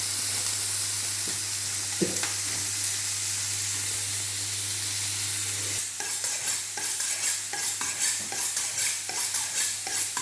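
Beef sizzles in a frying pan, a steady hiss of rendering fat that breaks midway into scraping, clattering stirring strokes from a utensil against the pan, close and alone without speech.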